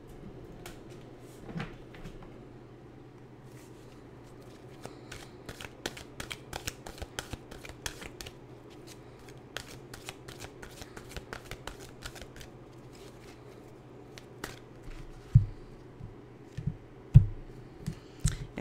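Affirmation cards being shuffled by hand, a close, crisp run of riffling snaps and soft slides, with a few heavier taps near the end.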